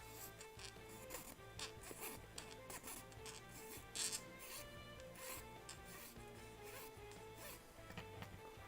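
Steady rasping of a file working a plastic part on a Master Grade GP03 Gunpla model kit, close and continuous with rhythmic strokes over a low background hum.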